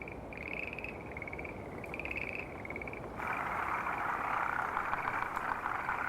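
Forest green tree frogs calling at night, a dense chorus of rapid, trilling croaks that grows fuller and louder partway through, with no voices.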